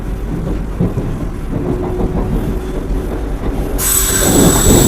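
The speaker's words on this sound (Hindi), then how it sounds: "लो यहाँ पे टीवीसी राजधानी का ओवरटेक त्रिशूर रेलवे स्टेशन में" Vande Bharat express train overtaking the Rajdhani at Thrissur railway station, a loud steady rumble of wheels on rails that swells and brightens toward the end, without speech.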